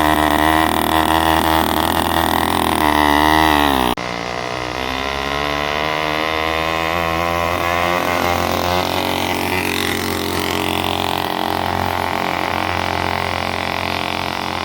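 A small motorized bicycle engine, fitted with a chromoly wheelie bar, revs hard and steadily while the rear tire is warmed up, a loud continuous buzzing drone that drops in pitch briefly then holds on.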